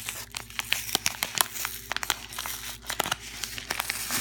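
Thick paper envelope holding 1990s trading cards being opened, with close, repeated crinkling and tearing of paper in irregular bursts, no talk.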